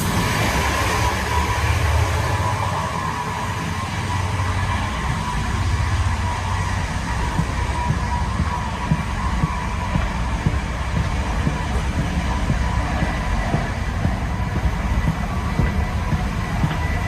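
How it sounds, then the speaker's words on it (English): A running train gives a continuous low rumble and hum with faint rhythmic knocks, loud and unbroken from start to end. "No, it's still the same fucking train."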